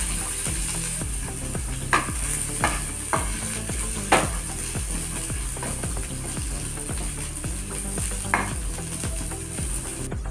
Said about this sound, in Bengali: অল্প একটু তেল দিয়ে মিডিয়াম আছে আমি ভেজে নেব একটু সময় ধরে ভাজতে হবে